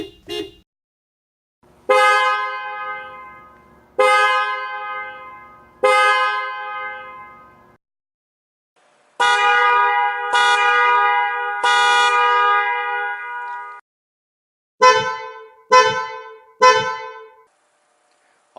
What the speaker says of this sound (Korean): 이 세 가지 혼 소리 한번 들어보시고